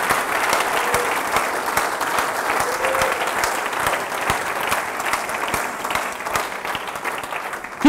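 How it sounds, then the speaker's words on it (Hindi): Church congregation at a Friday service applauds loudly and steadily, a dense wash of many hands clapping at an even level throughout. "एक जोरदार तालियां बजाएं खुदावंद यीशु के नाम के लिए"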